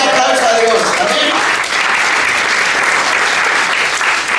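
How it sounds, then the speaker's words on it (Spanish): Church congregation applauding loudly and steadily throughout, a dense wash of clapping with a few voices shouting over it early on. "Denle un fuerte aplauso a Dios."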